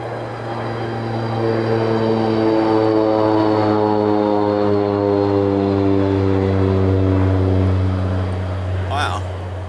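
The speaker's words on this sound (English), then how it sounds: "An old vintage plane just flew by." An old vintage propeller plane flies past outdoors, its steady droning engine hum rising, holding loud for several seconds and fading away at the end.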